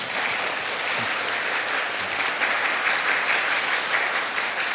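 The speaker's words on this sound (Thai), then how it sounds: "คุณแววตาปรบมือให้คุณสุชินครับ" Steady applause from an audience at a formal Thai MOU signing ceremony between a government ministry and a company, honouring a guest named Suchin; dense, even clapping holds throughout without pause.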